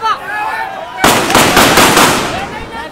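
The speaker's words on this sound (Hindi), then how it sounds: "हवाई फायरिंग शुरू हो चुकी है, आप देख सकते हैं।" During a clash between police and PTI supporters at Karachi's Numaish Chowrangi, a loud burst of aerial gunfire erupts on the street as a dense crackle of sharp reports, following a voice that talks just before it.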